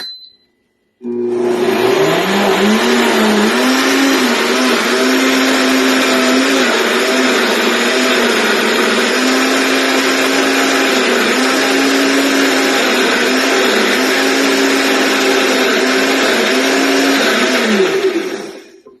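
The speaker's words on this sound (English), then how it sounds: "So we're going to put these in the blender here. It's going to get a little noisy." A blender motor runs loud and close for about seventeen seconds, blending banana waffle batter, its whine dipping and surging rhythmically as the contents churn, then stops.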